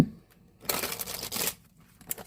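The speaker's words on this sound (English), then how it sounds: "And then after the splits, I love to do a little bit of a shuffle." A deck of cards is shuffled up close in two quick riffling bursts, soft papery rustles between them and a faint tap at the end.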